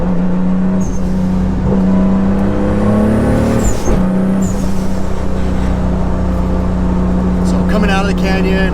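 A Mk3 Toyota Supra's engine pulls hard and steady inside the cabin, a loud continuous drone as it speeds up to pass a BMW on a canyon road, with a voice speaking over it.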